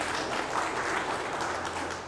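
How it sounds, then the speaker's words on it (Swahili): An audience breaks into dense, steady clapping at a public address praising the government's expansion of secondary schools. The applause stays full and continuous for about two seconds. "Pigeni makofi serikali yetu"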